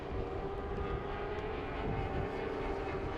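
Ducati racing motorcycle at an ASB1000 race, engine roaring loud and steady with a constant high drone and no pauses.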